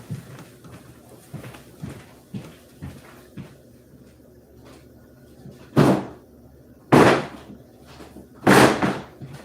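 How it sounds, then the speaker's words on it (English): A door is shut in a room with three loud, sharp broadband thumps near the end, spaced about a second apart. Before them comes quieter rustling and background noise. "Hold on, let me go shut this door."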